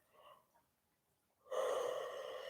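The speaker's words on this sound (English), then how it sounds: "I can take a deep breath now with no issue." A person recovering from illness with a slight dry cough takes one deep breath. A faint breath comes first, then after a pause a long, clear inhale with no talking.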